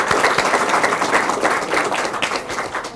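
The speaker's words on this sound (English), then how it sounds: "let's give a big round of applause for them" An audience at a Firefighter of the Year awards event gives a round of applause, with dense, steady clapping close by that tapers off slightly at the end.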